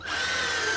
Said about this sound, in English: we're going to pre-drill this top